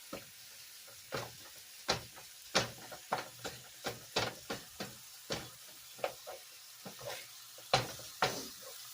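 Meat frying in a pan being broken up with a utensil: about twenty sharp scraping chops in an uneven rhythm over a faint, low sizzle, close by and with no speech.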